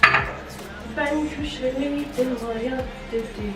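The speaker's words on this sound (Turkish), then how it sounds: "Bulaşıklara geçiyoruz." Dishes, pots and cutlery being washed in a student dormitory, with scattered clinks and clatters of metal and crockery, a sharp knock at the start, under music and faint talk.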